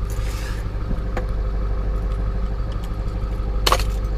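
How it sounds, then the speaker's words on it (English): A diesel ambulance engine keeps idling with the ignition off and the key removed, a steady low rumble running throughout with a few faint clicks and a brief brighter burst near the end. "now I can turn off the ignition, take the key out, but the engine keeps running"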